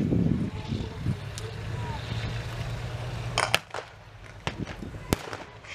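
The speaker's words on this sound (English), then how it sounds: "Sherman's firing." A Sherman tank fires its gun during a Tankfest 2022 display of WWII vehicles, with two sharp, loud blasts cracking out over a low engine rumble and outdoor wind.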